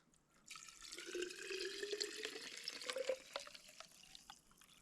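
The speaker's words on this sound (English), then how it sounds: "I'll pour it back in here, and that'll help at least thaw some of this ice." Warm water is poured into a bottle partly filled with ice while winter camping in extreme cold at -25°F, a close, gurgling pour with rising pitch as the bottle fills.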